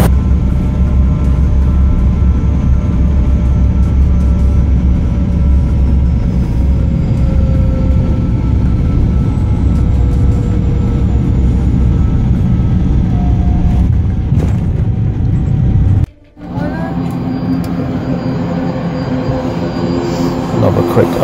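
Steady, loud roar of a passenger jet cabin in flight on a holiday trip after an engine failure, a constant broadband drone filling the whole stretch with a brief dropout near the end before the hum resumes.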